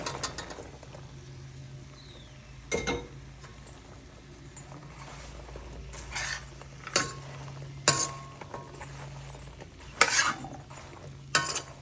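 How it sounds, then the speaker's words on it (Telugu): Ridge gourd pieces fry in a pan with mint and turmeric, a soft, low sizzle punctuated by several sharp clinks and scrapes of a spoon stirring the pan. "ఇప్పుడు బీరకాయ ముక్కలు వేసేస్తాం"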